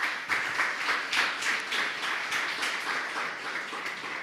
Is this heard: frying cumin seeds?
no